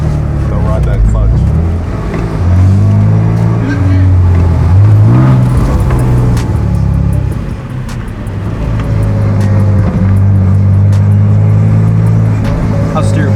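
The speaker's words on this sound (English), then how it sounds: "Is this thing backfiring? Is that what that is?" A car engine runs steadily on a test drive, its pitch rising and falling through gear changes, with road noise and people talking in the cabin over the drone.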